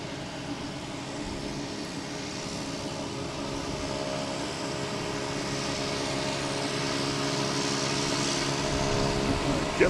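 JetBlue Airbus A320 jet arriving from Tampa at Logan Airport, a steady broad engine roar heard at a distance that swells gradually as the aircraft approaches.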